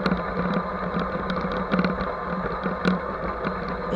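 An RGT EX86190 Rescuer RC crawler drives across grass, its small electric motor giving a steady whine with brief surges and rattles as it moves.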